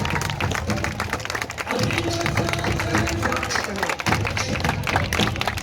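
Dense, steady applause from a crowd at a ribbon cutting that opens a society's silver jubilee food mela, held close and loud for several seconds, with voices mixed into the clapping.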